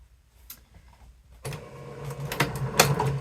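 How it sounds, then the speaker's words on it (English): A sewing machine back stitches along the seam of a patchwork dress, starting abruptly as a steady close-up motor whir with rapid needle clatter that runs on after a brief quiet tap. "I'm back stitching at the beginning,"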